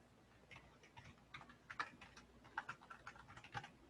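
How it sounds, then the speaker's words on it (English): Soft, quick keystrokes patter on a computer keyboard in an irregular rhythm, faint and close, with no talking over them. "I am so great at typing."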